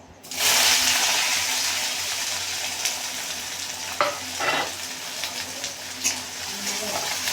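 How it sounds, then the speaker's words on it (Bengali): Three chopped onions sizzle loudly in hot oil, with a few scraping stirs and clinks of a utensil against the pan partway through. "পেঁয়াজগুলো একটু ভেজে নেব"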